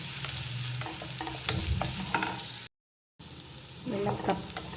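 Small shallots sautéing in hot oil in a pan, a steady loud sizzle broken by spatula scrapes and stirring clatter, with a brief dropout midway and no talking.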